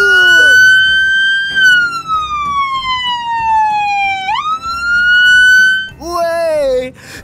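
A vehicle's loudspeaker siren wails, holding a long tone that slowly falls, then sweeps sharply up before a fresh rising wail, loud and close with no speech.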